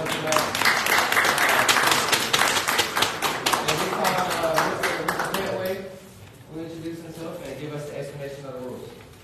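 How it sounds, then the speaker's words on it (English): Audience at a union and NAACP candidates forum with sanitation workers applauds, a dense burst of clapping that fades out midway before voices take over. "let's give another round of applause for the candidates."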